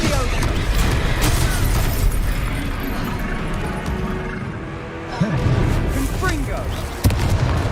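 Repeated booming spell explosions from Confringo in the game Hogwarts Legacy burst loudly and close amid combat effects and music, with voices shouting between the blasts.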